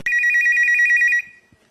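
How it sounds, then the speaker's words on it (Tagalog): A telephone rings loudly and close in one continuous electronic trill of rapid pulses, then stops abruptly, followed by a couple of faint soft knocks. "Narinig yung telepono, nag-ring, kinausap agad hindi inangat."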